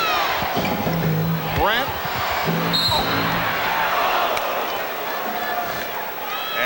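Crowd at a 1991 NBA Finals game between the Chicago Bulls and Los Angeles Lakers chants defense in a rhythmic roar, squeaking sneakers and a commentator's voice over it.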